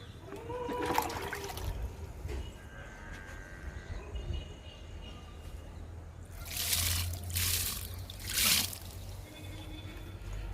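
Liquid fertilizer poured onto a small guava plant outdoors, a soft trickle and dribble of liquid over a low background hum, then a few louder splashing pours near the end.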